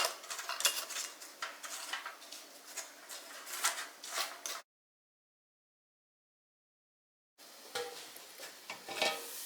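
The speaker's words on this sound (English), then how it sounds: "Putting my lids on finger tight." Close clinking and scraping of metal lids screwed finger tight onto glass canning jars in two bursts separated by a few seconds of silence.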